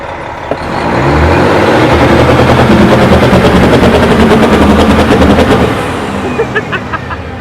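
Cabover truck engine held wide open, bouncing on the rev limiter in limp mode: a loud, harsh, rapidly stuttering roar lasting several seconds before dropping off.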